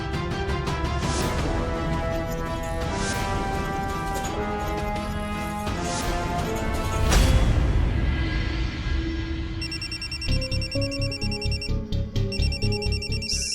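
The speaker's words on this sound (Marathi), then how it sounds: "सकाळी सकाळी तायडीचा फोन." A phone's ringtone cuts in near the end of a stretch of background music, a bright electronic tone repeating in quick regular pulses until the clip ends.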